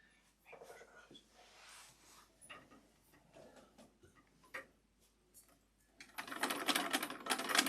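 An antique Singer 66 sewing machine starts sewing after being oiled, with light, uneven ticking and mechanical clicks at a low level, then a louder burst of rapid running near the end, while a voice talks quietly throughout.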